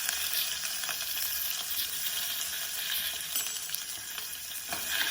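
Mustard seeds, cumin, chilli and crushed garlic fry in hot oil for moong dal khichdi, a continuous close sizzle with bright crackles and occasional sharp pops.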